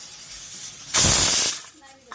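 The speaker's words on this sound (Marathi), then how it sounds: "कुकरची शिटी 1-2 शिटी काढून घेऊत आपण।" A home pressure cooker whistling while it cooks spiced rice in a kitchen, giving one loud, steady hissing whistle that lasts about half a second and then drops away. No one speaks over it.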